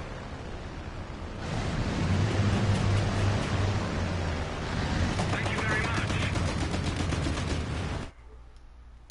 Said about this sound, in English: Machine gun fire